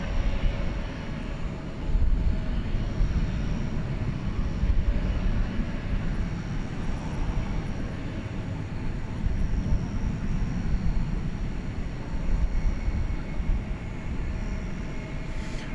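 Aircraft at DFW Airport at night make a steady engine roar near the runway. The sound is broad and continuous with slight swells, heard at moderate distance with no break.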